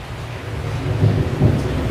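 Deep thunder rumbling through a storm, a low continuous roll that swells into two heavier peaks, with a faint wash of rain beneath.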